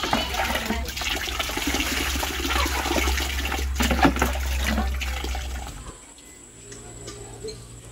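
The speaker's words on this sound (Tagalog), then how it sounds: "at hugasan na po natin itong talong" Eggplants washed under running water from a kitchen tap, a steady rushing splash for about six seconds that cuts off, leaving a quieter low hum.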